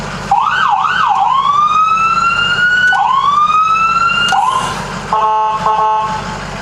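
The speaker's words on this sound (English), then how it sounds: "Oh yeah, the siren." A loud emergency vehicle siren cycles through a quick rising-falling yelp, then long sweeping wails, ending in a short electronic warble.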